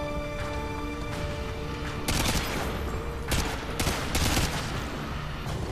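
Rapid gunfire from Call of Duty: Modern Warfare 2 crackles in loud, dense bursts, with heavier volleys hitting close and overlapping over a steady battle din, and no voices.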